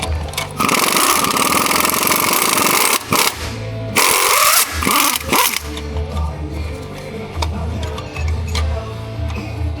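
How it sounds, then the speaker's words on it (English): An impact wrench with a 3/8 extension and swivel 13 mm socket hammers out the long starter bolts on a 2021 GMC Sierra 1500, two loud close rattling bursts followed by quieter shop clatter. "Starter is held in with 2 long 13 millimeter bolts. So I'm using a 3/8 impact extension and a swivel 13."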